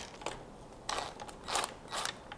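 A ratchet wrench working to loosen oil pan bolts on a BMW E9x, giving bursts of rapid clicking and grinding in several short pulls, close and fairly loud, with no talking.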